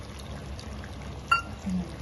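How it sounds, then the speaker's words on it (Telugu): Tamarind juice pours briefly into a simmering mango fish curry as a soft, short splash over a low background hiss. "చింతపండు పులుసు తీసుకుని అలా మగ్గుతూ ఉన్నప్పుడు వేసుకున్నాం చింతపండు పులుసు"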